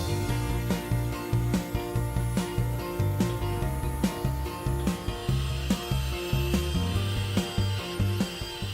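A Tormat Joker CNC wood turning and milling machine with 4 axes, two turning knives and two milling knives shapes wooden furniture legs, giving a steady mechanical hum under a regular, rapid clacking cut. The sound is close and fairly loud, with no talk.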